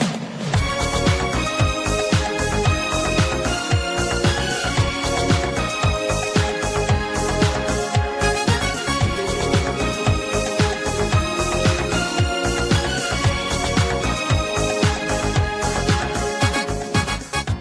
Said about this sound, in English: And there was also a brass part that went to complement those strings.